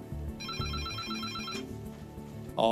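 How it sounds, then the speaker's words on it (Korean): An airport full-emergency telephone ringing in repeated electronic bursts, a loud, steady ringtone pattern heard alone with no talk over it. "풀 이머전시 상황에 그 전화가 울립니다."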